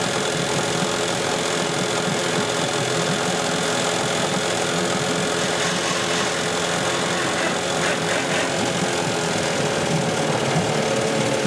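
A Suzuki 9.9 HP outboard motor running steadily, its loud, even engine drone and rattling mechanical clatter continuing without a break and with no voices.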